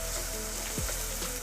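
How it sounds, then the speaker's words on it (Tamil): Onions and garlic frying in hot oil, a steady close sizzle with brief stirring scrapes. "இந்த வெங்காயம் கூடவே கொஞ்சம் கல்லுப்பையும் போட்டு வதக்கிக்கலாம்"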